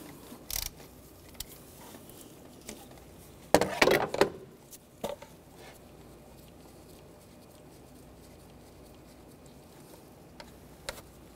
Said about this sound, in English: Use an E10 socket. Take this bolt out.